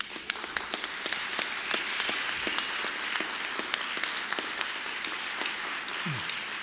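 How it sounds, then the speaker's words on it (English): An audience applauds at an engineering honoree awards ceremony, with steady scattered clapping heard from a distance at moderate volume, no voices. "They deserve that applause and more"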